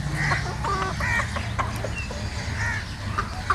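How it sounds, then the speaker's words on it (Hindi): Turkey hens in a private aviary at a private zoo, making a few short, nasal clucks and calls in bursts over a low background rumble, fairly close. "वो टर्की मुर्गियाँ कहलाती हैं"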